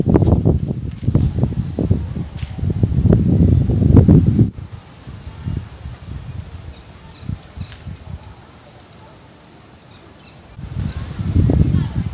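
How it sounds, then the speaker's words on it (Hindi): Wind gusting across a rooftop in cool weather, buffeting the microphone in loud bursts that ease off and return, with leaves rustling. "बहुत ही ठंडी ठंडी सी हवा चल रही थी"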